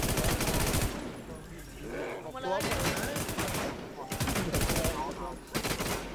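Rapid automatic gunfire in a video game, delivered in several loud sustained bursts separated by short lulls, with a voice talking faintly in the gaps.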